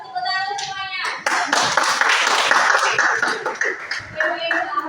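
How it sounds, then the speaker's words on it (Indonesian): Children in a classroom break into a burst of hand clapping that lasts a few seconds, with voices before and after the applause. "aku tepuk tangan semuanya"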